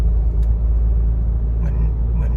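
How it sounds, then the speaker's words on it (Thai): Isuzu MU-X 2021 diesel engine droning low and steady inside the cabin as it runs through a gear change at around 2000 rpm, with a faint clunk partway through. "นี่ครับเปลี่ยนเกียร์อยู่แล้ว จะเปลี่ยนทุกสองพันรอบนะครับ"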